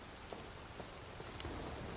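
Steady rain falling in the video game Detroit: Become Human, a soft, continuous hiss of drops with faint scattered splashes and no voices.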